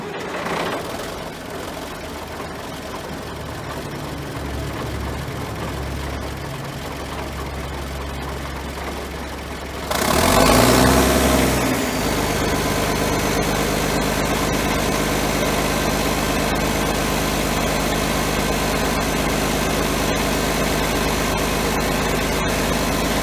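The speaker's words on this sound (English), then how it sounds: "The old John Deere 770 still runs. We got it fired up. Sounds really good." An old John Deere 770 motor grader's diesel engine idles quietly at first, then fires up with a louder burst around the midpoint and settles into a steady, rumbling run with a constant knocking hum.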